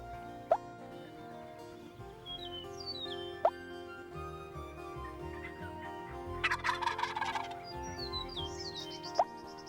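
Wild turkeys gobbling out in an open sunlit field during a spring hunt, several loud gobble bursts with the strongest cluster midway, alongside sharp knocks and faint chirps from other birds.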